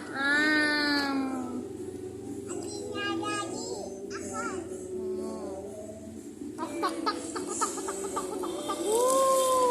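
Chickens cluck and squawk close by while they are fed, with rising calls at the start and more near the end, as children and adults talk nearby throughout.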